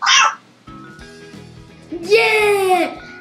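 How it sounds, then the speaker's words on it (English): A cat meow sound played on a Nintendo Labo cardboard piano, a short bright electronic meow near the end, following a brief burst and some soft tones, with a voice speaking. "When a cat asks for food."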